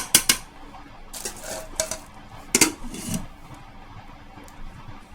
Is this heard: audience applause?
no